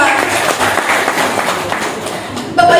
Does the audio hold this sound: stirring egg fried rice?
no